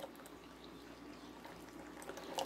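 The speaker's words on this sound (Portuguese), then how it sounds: "Agora aqui eu vou colocar a água sanitária." Household bleach is poured into a homemade soap base made with tangerine peel, a soft, low trickle of liquid with a faint splash near the end, quiet and without talking.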